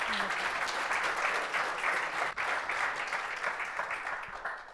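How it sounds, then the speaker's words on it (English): Warm, steady audience applause at a DevOps conference as a speaker is welcomed to the stage, continuous dense clapping from a crowd. "with a great and warm applause, Heather Wilde, please."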